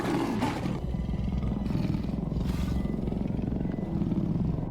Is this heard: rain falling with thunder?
no